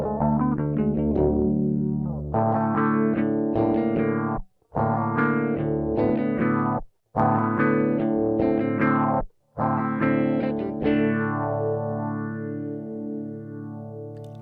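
An electric guitar is played through a Behringer Ultra Phase Shifter UP300 pedal with all levels set at 50%, producing sweeping, swirling phased chords in several phrases separated by brief pauses, with no talking.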